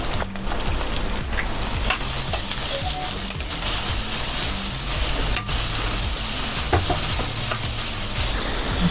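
Finely chopped onions sizzle loudly in hot oil in a pan for a methi chaman curry and are stirred now and then with a spoon. A steady close crackle runs throughout, with occasional scraping knocks from the stirring.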